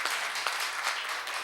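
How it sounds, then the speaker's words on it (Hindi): An audience at a mushaira poetry recital in a Zila Panchayat hall in Deoria applauds in a dense, continuous burst, with a few sharper claps standing out from the steady mass. "अगर आप सब सुनना चाहते हैं तो एक बार जोरदार तालियां बजाइए"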